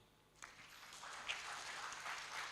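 An audience at a conference plenary panel breaks into applause, a quiet room suddenly filling with a steady patter of many hands clapping that holds to the end, heard from a distance.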